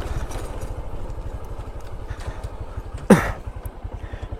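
A motorcycle engine putters steadily with a fast, even low-pitched throb on an open hill road in Rangamati, with a brief sharp knock or clatter partway through; no talking.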